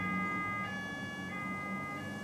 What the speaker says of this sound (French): Une voiture sirène passe à vive allure et me met sur mes gardes.